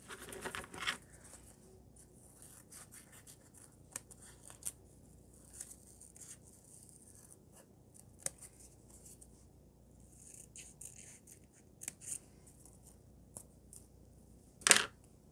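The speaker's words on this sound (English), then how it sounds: "Really satisfying when you're peeling these bits off." Sticky collage paper motifs are peeled off a backing sheet, giving faint scattered crackles and tearing ticks over near silence, with a louder rip near the end.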